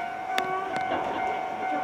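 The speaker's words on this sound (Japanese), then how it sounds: "電車です。" A train pulls into a station: a steady tonal whine from the approaching cars, with short clattering bursts, heard close by and fairly loud.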